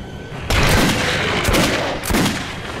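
Gunfire in the video game Metro 2033 Redux: loud bursts of shots starting abruptly and continuing densely, with heavier blasts near the middle and end.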